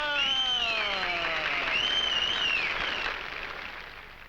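Studio audience applause from a 1950 comedy quiz show, a broad steady wash of clapping heard alone that swells briefly and then fades somewhat toward the end, with music tones faintly running beneath.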